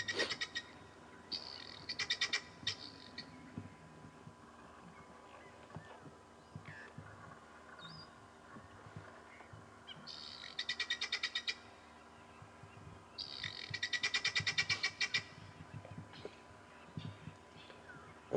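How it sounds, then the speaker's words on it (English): A helmeted guinea fowl on an African safari drive gives its alarm call at the sight of lions. Bursts of rapid, harsh clicking calls repeat at a moderate distance, with quieter background sound between them. "That is a helmeted guinea fowl"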